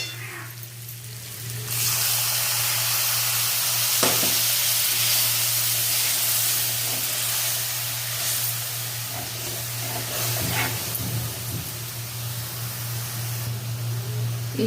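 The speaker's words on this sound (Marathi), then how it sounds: "वाटाणे आणि शेंगदाणे सर्व साहित्य शिजवून घेणार आहोत." Field beans, peas and peanuts cook in a pan for a Bhogi mixed-vegetable dish, giving a loud, steady hiss and sizzle throughout with a few faint clinks and no voices.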